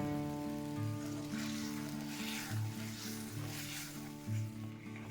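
A curry broth of jute leaves and small puti fish, with turmeric, salt and hot water, bubbles and simmers in a pot. The boiling is a steady hiss with soft low tones in the background.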